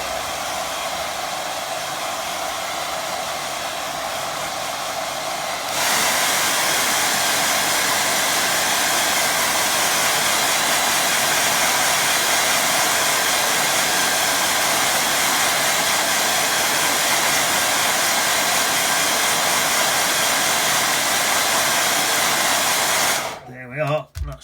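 A hair dryer blows on a wet watercolour mountain-reflection painting, first as a lower steady whir, then louder and brighter at a higher setting for most of the clip before it clicks off near the end.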